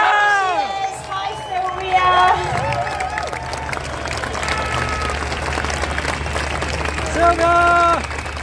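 A crowd at the National Rejoin the EU march in London breaks into sustained clapping and some cheering, a dense wash of applause running throughout beneath a person speaking over a loudspeaker.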